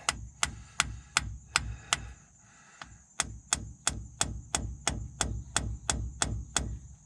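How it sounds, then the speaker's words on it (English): Steady, rhythmic carpenter-hammer taps on a metal axle seal of a Dodge Ram 2500 9.25 AAM front axle, about two per second, with a brief pause midway before the tapping resumes at the same even pace. "I'm gonna use my carpenter hammer because I can't find my real tiny one I need."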